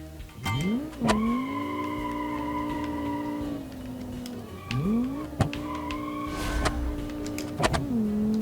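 A turbocharged car in the Automation driving game revs hard on a test track, its engine tone climbing and holding through gear changes with brief tire and brake noises, loud and close.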